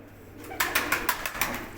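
Pigeons coo in a soft, rhythmic series of about seven pulses, fairly close, with no talking.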